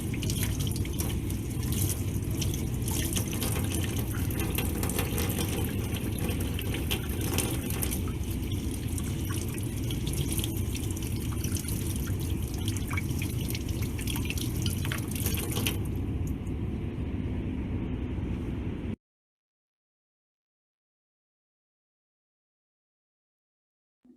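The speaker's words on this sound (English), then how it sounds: "be sure to take the dentures out and rinse them off thoroughly" Dentures rinsed under a running tap, a steady splashing stream of water over a sink lasting most of the stretch before cutting off abruptly into silence.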